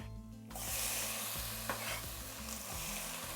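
Tomatoes drop into a hot pan for bistec ranchero and sizzle strongly, with a brief stir clatter, loud and close for a few seconds.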